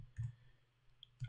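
A computer keyboard is tapped in a few sparse, soft keystrokes, two heavier thumps bracketing a light click, faint and close with no talking.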